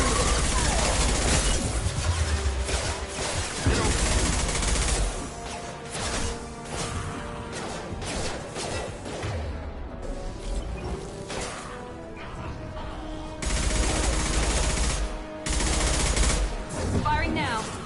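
Loud bursts of video game gunfire in Mass Effect 2, rapid fusillades and heavy shots crashing in waves with brief lulls, overlaid by game speech and battle effects.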